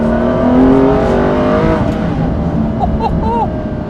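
An Aston Martin One-77 is driven hard, its raw engine revving and shifting through rising and falling notes, loud and close, with faint squeaks near the end.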